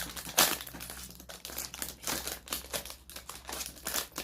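Close, crisp crinkling and tearing of a plastic snack wrapper as a package of Eti ketchup-flavored fish crackers is opened, in quick irregular bursts throughout.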